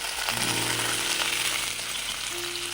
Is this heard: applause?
no